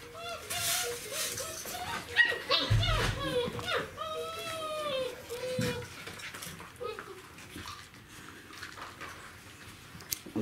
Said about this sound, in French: Ce sont des chiots, hein, qui mordillent énormément.